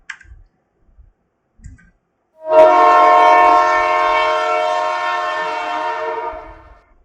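A train horn sounds loud and sustained for about four seconds, sliding slightly in pitch as the train passes and fading at the end, preceded by a few faint clicks, heard in a lecture animation of a train passing a pole.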